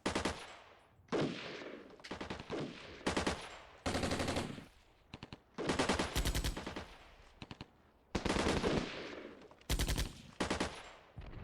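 Automatic submachine gun fire in the Armored Brigade II video game, Scandinavia DLC battle: repeated loud bursts of rapid shots, some long and sustained, separated by short pauses, with no talking.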